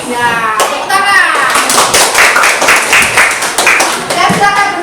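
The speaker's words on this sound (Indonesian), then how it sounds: "Ya, tepuk tangan." Students in a vocational high school classroom clap their hands together in a burst of dense, close applause lasting several seconds, with some voices calling out alongside.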